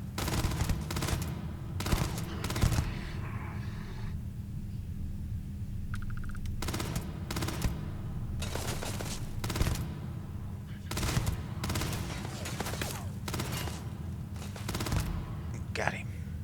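Gunfire in the sci-fi video game Starfield, bursts of rapid automatic shots and single blasts repeating through a firefight, fairly quiet and mixed with the game's background sounds.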